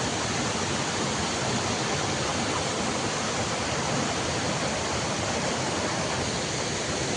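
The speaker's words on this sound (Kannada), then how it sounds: "ಮಿನಿ ಫಾಲ್ಸು ತುಂಬ ಚೆನ್ನಾಗಿದೆ ನೋಡೋಕೆ" A small waterfall pours steadily, its broad even rush of water filling the whole clip at close range with no pauses or voices.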